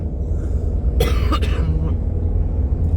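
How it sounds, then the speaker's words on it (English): A single cough rings out over a steady low rumble of road noise inside a car during delivery driving, followed by a smaller second cough. "still fighting the cough"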